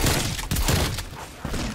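Sentry turret firing in Call of Duty Zombies, a loud close burst of rapid shots in a few dense pulses over about two seconds.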